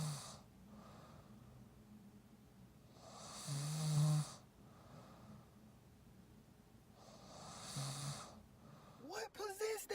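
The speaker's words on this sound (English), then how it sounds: "It's like a cartoon snore" A woman's loud snoring repeats in slow cycles, with harsh rattling snorts roughly every four seconds separated by quieter breathing, ending in a sharp snort.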